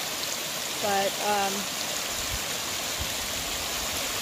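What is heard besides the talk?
creek flowing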